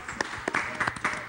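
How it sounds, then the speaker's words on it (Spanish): Brief burst of studio audience applause welcoming guests on a Peruvian TV talk show, scattered claps for just over a second. "Un aplauso para nuestros invitados."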